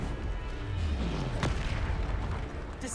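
A Bombarda spell explosion in the video game Hogwarts Legacy lands as a single heavy boom with a sharp burst, set against a continuous rumbling game soundscape.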